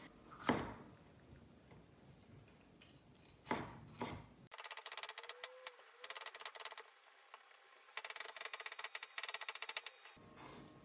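A knife slices a yellow paprika on a cutting board, a few isolated chops followed by bursts of rapid, crisp repeated cuts, close and clear with no talking.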